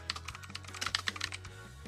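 A computer keyboard being typed on to enter a plugin name in a search box, with a quick uneven run of light key clicks heard close and quiet, without talk.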